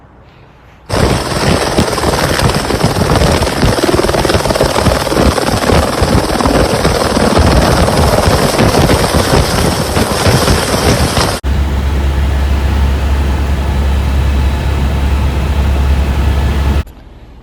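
Medical airlift helicopter flying patients between hospitals, a loud, steady rotor and turbine roar filling the cabin for the whole stretch, the tone shifting midway to a smoother drone with a deep low hum, no talk.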